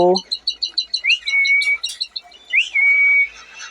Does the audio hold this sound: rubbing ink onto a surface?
no